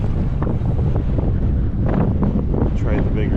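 Strong wind buffets the microphone as a small fishing boat cruises along on a lake during walleye fishing. The rumble is loud and continuous, with water washing against the hull.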